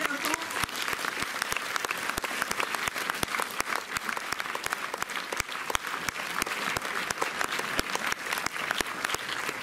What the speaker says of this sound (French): applaudissez-les avant.